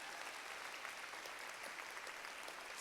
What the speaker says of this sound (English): And I want you to clap for that.